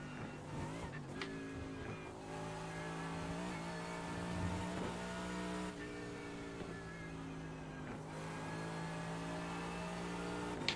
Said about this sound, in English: Why are you bouncing off the rev limiter?